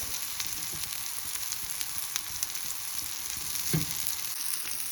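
Tilapia fish coated in spicy masala fries in a pan, giving a steady close hiss of oil with occasional faint crackles and one soft knock, no one speaking.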